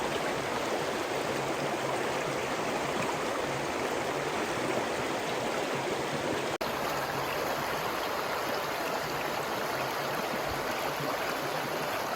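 River water in the Grand Canyon rushes steadily all around, a loud, constant close-up flow with no pauses.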